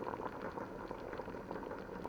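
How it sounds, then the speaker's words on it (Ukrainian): Zucchini boil in a pot of water over medium heat, a dense, steady bubbling that stays close and even throughout with no talking. "Кабачки закипіли."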